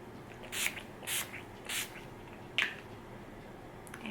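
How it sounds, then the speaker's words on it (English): Four quick misting sprays of rose water setting spray onto a face, three in even rhythm and a fourth after a pause, close and soft. "I'm going to mist my face with this Mauvin Beauty Rose Water Setting Spray."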